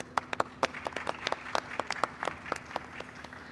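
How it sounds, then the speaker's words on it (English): Scattered, sparse applause from a small audience at a halal industry forum in Makkah, individual claps distinct and irregular, fairly quiet and close, no talk. "Yes, a round of applause."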